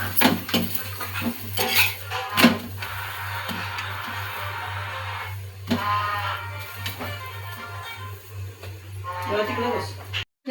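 Paratha roasting on an oiled pan, with clinks and scrapes of a utensil against the pan and a low sizzle in between, close by, while a person talks over it.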